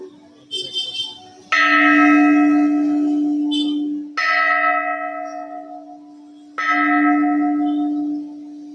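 A temple bell from Thevaram rings three times at unhurried intervals. Each strike is loud and close with a bright metallic attack and a long, humming decay.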